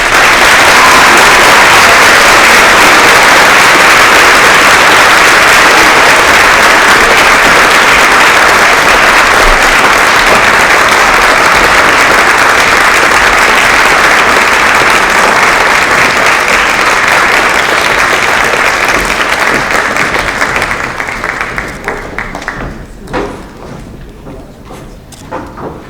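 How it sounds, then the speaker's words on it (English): Audience at a high school award night giving a long round of loud, dense applause that holds steady, then thins and fades out toward the end. "Please give them a round of applause."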